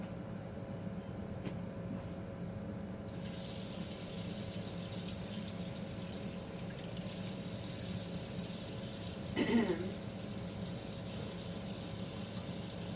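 Warm water running steadily from a tap, a soft continuous stream with a faint hum, broken by a brief splash or clatter near the end.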